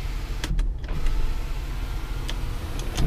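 Power sunroof on a 2012 Ford F150 FX4 crew cab pickup running: a steady electric motor whir inside the cab, punctuated by a few sharp mechanical clicks as the glass panel moves.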